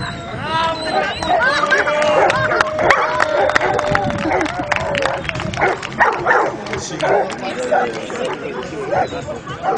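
A dog barks repeatedly during a Bulgarian specialty show demonstration, acting out an attack on a boar, its sharp barks scattered over steady crowd chatter and a nearby talking voice.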